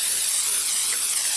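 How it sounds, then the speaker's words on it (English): Cooking spray hisses onto a Teflon-coated pan in one continuous, close, loud aerosol burst lasting just over a second. "I'm going to spray this pan so nothing sticks"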